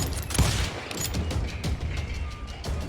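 Gunfire in the Western shooter Call of Juarez, a dense, continuous clatter of shots and impacts with a busy rumble underneath, loud and close throughout.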